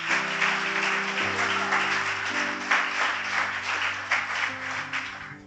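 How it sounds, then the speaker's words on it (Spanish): Congregation applause at a Sunday church service, a steady wash of clapping held for several seconds over sustained organ or keyboard chords. "Dale un aplauso al Señor."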